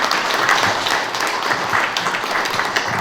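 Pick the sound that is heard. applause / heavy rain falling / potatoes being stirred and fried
applause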